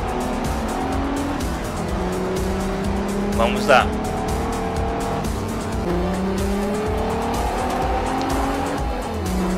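A Mercedes race car in Forza Motorsport 4 drones with steady engine tones that rise and fall through gear changes, with a short tire squeal partway through, while someone talks over the game audio.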